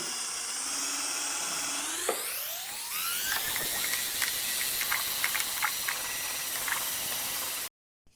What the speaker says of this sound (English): I improvised one of the Allen keys from the Allen key set, so I'm going to use this as a mixer